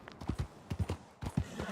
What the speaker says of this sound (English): He's got a fast horsey.